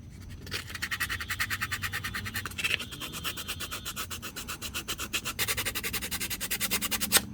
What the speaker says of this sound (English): put a little sandpaper here, just sand it off, clean it really good